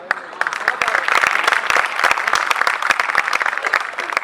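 An audience at a poetry gathering (mehfil) claps steadily throughout, dense, close applause with sharp individual claps standing out, and speech mixed in.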